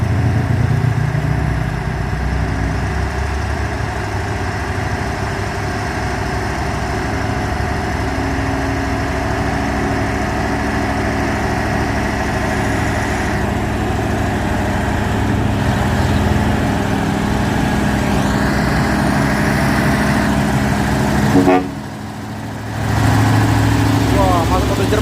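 A trailer truck's engine idles steadily on a road in a continuous low rumble, with road noise around it, a brief dip near the end, and voices present.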